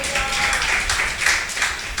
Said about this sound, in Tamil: எல்லாம் கைத்தட்டி கர்த்தரை ஸ்தோத்திரம் பண்ணுங்க.